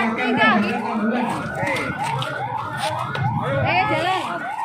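Ambulance siren wailing continuously in rising and falling sweeps during an emergency trauma life support drill, loud and near, with voices talking underneath.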